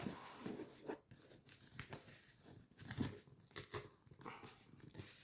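A tightly packed parcel is torn open, with crinkling paper and cardboard, sharp tearing and rustling bursts that come in irregular handfuls over a few seconds, close up and without talk.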